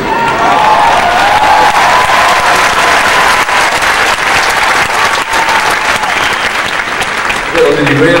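Audience applause at a concert at the Compaq Center in Houston: loud, steady clapping from a large crowd with cheering mixed in, sustained throughout.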